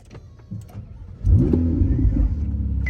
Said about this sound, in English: is letting me drive his Ferrari. So let's take it for a spin.